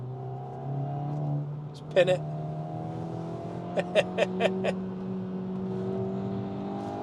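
Hyundai i20N hot hatchback engine pulling hard in second gear through a tight bend, a steady rising drone with sharp pops and crackles, under cabin talk.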